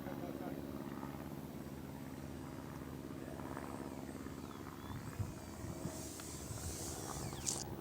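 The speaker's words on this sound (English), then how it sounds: "And a Harrier landing." A remote-control model Harrier jet lands with a steady, fairly faint motor drone that rises to a higher whine near the end, while people talk nearby.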